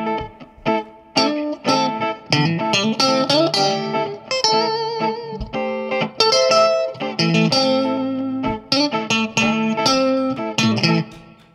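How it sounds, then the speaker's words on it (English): A distorted electric guitar plays a bluesy lead lick with bends and sustained notes, loud and close, with no talking. "teach you how to play a fantastic little blues riffy lick thing"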